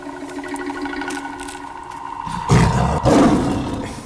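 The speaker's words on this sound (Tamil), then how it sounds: "புலி சத்தம் மாதிரி கேக்குதியா." A tiger roars in a comedy sketch, a loud burst of roaring that swells partway through over a steady humming background, with no talking.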